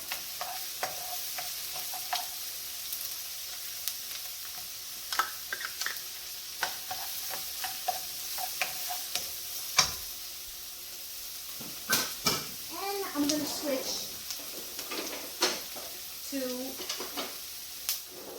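Cauliflower rice with white onion cooking in a pan for keto fried rice, a soft continuous sizzle broken by stirring scrapes and utensil clinks, with a voice briefly audible near the end.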